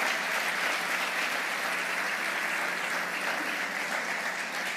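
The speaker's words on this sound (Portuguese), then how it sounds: "vocês vão dar uma salva de palmas para esse grupo aqui também" A large crowd at a Portuguese-language seminar on getting rich gives a group sustained, dense applause, an even wash of clapping for about five seconds with no break.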